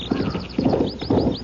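Horse hooves clip-clopping in an old radio mystery drama, a brisk rhythmic series of close, hollow knocks on a hard surface, mixed with a brief whinny.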